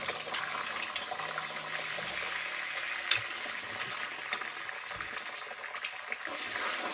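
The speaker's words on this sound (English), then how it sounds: "And I'll add some eggs." Eggs frying in a pan while cooking pad thai, a soft continuous sizzle with faint crackles and occasional clinks, quiet and steady with no talking.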